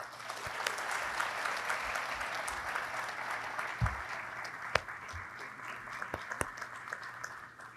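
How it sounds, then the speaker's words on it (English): A large audience applauds at the grand opening of Northeastern University's EXP Research Center, a dense, sustained ovation that holds steady for several seconds with a few sharper claps standing out near the end. "Let's first start with giving a big round of applause to James."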